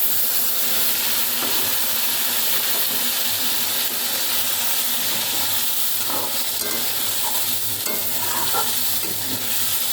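Spice paste with turmeric frying in a pan for a fish curry, a constant loud sizzle with steady stirring and occasional light scrapes and taps of a spatula, close up.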